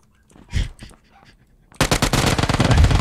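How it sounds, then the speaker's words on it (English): A dog barks a couple of times close to a microphone, followed by rapid, loud bursts of automatic video game gunfire from a PUBG match that dominate the second half. "I hear this guy's dog barking"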